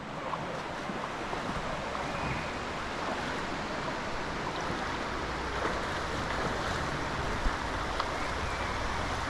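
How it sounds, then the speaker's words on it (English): River water rushes steadily over rocks, a broad, even hiss of flowing water close by, with no voices. "we are crossing the river"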